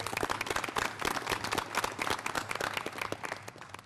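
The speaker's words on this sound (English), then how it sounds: "I would like to give her a round of applause" Dense round of applause from a seated audience at a county commission work session, many hands clapping together steadily and loudly throughout, easing slightly toward the end.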